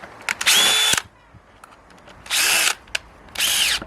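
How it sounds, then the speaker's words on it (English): A DeWalt DCD795 cordless drill bores through material in three loud, close bursts, whining and straining with short quiet gaps and small clicks between them. "you have to be strong enough to hold the drill in place"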